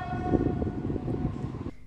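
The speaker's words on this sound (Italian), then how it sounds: "l'emozione di vedere il primo treno elettrico transitare nella stazione di Isernia" The first electric train passes through Isernia station on a test run, a steady rumbling roar with a long high tone like a horn or siren held over it, cutting off near the end.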